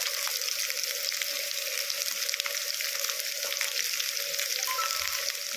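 Chopped carrots and mixed vegetables frying in a pan for a labra curry, a dense continuous hiss of sizzling oil with faint stirring clicks, close up and steady, no voices.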